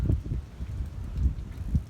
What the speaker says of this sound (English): It's a little windy, but the wind is from the south.